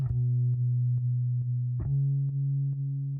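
Sustained bass note with a chorus effect and slight distortion in an indie pop mix, a steady low tone with regular soft plucked attacks, loud and alone.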